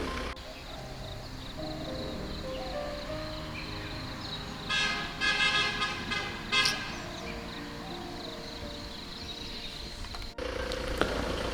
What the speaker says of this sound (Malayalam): മുന്നിൽ മാനുകൾ വഴി കടക്കുമ്പോൾ ഓടിയെത്തുന്ന വണ്ടികളുടെ ഹോണടി അരോചകമായി.